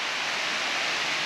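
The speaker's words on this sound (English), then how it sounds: "That's not white noise in the background, that is the rain again." Rain falling steadily outside a boat-building workshop, an even, dense hiss with no breaks or voices, moderately quiet and constant throughout.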